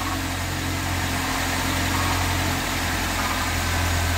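A 1995 Toyota Camry engine idling during an EGR valve test gives a steady, close mid-pitched rumble with a constant hum and light vibration, and no speech.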